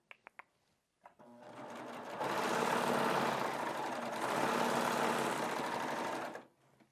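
A Baby Lock Triumph serger stitches a hem, starting after a few soft clicks and a brief stutter, then running in a steady loud whirring hum for about four seconds before stopping.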